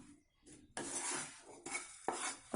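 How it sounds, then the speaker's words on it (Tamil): A spoon scrapes and stirs salt into a pan of roasted toor dal, leaves and spice powder, giving a few quiet, gritty strokes separated by short pauses. "இந்த இடத்துல நம்ம உப்பு சேர்த்துட்டு ஒரு கலந்துட்டு நம்ம ஸ்டவ் ஆஃப் பண்ணிக்கலாம்"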